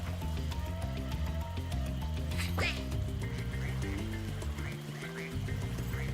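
Cartoonish duck quacking in the video game Spyro 2: Ripto's Rage, a few short croaky calls over steady game music and effects.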